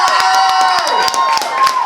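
A crowd cheers and claps loudly throughout a comedian's first headlining show, with scattered shouts and whistles rising over a dense wall of applause.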